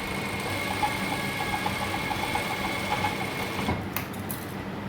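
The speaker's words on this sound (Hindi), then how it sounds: "हाफ बूट की सिलाई लगानी है जहाँ तक चाक पट्टी आ रही है इधर तक।" A sewing machine stitches a half-boot seam along a chalk strip on a garment, running in a continuous fast mechanical whir at steady loudness, close by, with a few brief clicks near the end.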